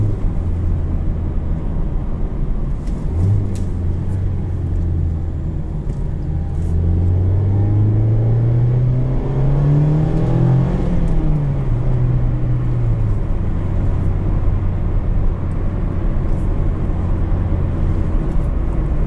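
A 2019 Mazda Miata RF with manual gearbox drives along, its engine and exhaust a steady close drone from inside the cabin, rising in pitch through a rev build midway before settling back to an even cruise.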